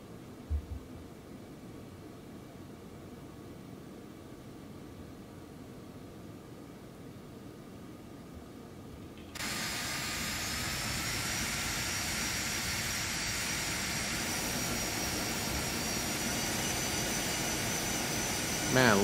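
A Phenom 300 jet in the X-Plane 11 simulator starts its takeoff: a quiet, steady engine hiss that jumps partway through to a louder, sustained broadband roar as the engines spool up.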